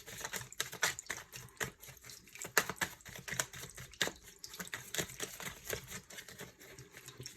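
Tarot cards are shuffled in quick, uneven bursts of crisp riffling clicks and flutters, close and fairly quiet.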